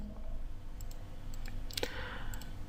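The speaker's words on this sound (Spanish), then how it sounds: "Simplemente haciendo doble clic, estoy ingresando." A few sharp, quiet mouse clicks, including a quick close pair near the middle, sound over a low steady room hum with no talk.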